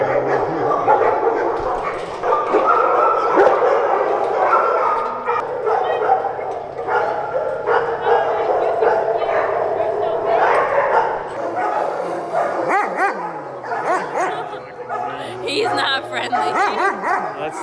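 Dogs at a K9 training facility bark, yip and whimper repeatedly at close range, mixed in with people talking throughout.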